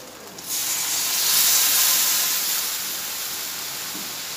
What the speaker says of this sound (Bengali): এবার মা পোস্তটা দিয়ে দিল।